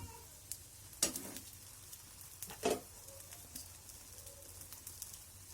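An egg and vegetable omelette fries in a pan, giving a faint, steady low sizzle broken by a couple of louder brief scrapes or clatters near the pan, with no talking.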